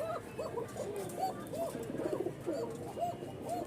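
Rajshahi Kokka and Toy Lahori pigeons coo at a pigeon market farm in a rhythmic series of repeated rolling calls, close and fairly quiet, with faint background noise.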